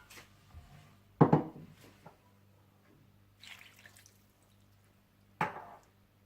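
Chicken mince and half a cup of water go into a pan for samosa filling: a few soft, scattered thuds and splashes, a couple of louder drops, separated by quiet gaps.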